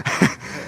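Heavy, labored breathing right after curling a 95 lb barbell: a sharp gasping inhale followed by a long, rough exhale, close and fairly loud, with no talking.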